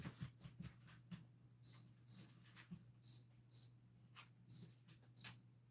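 Crickets chirp in short, evenly spaced bursts against a quiet nighttime background with a low steady hum, fairly close and clear.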